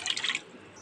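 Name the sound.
water being poured into a pan with sugar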